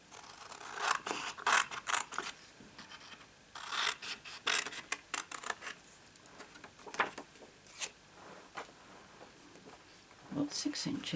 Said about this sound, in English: Let's just use scissors